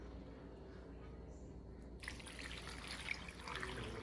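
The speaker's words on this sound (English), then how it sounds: "Put it all in a crock pot and pour some water." Water poured into a crock pot over cut sausage for red beans, a soft steady trickle and splash that starts partway through and carries on, quiet and close over low room hum.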